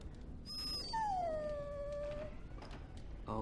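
In the video game Dragon Age Origins, a dog lets out a single drawn-out whimpering whine that slides downward and fades, heard close and clear over a low background hum.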